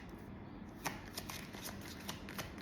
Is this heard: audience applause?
no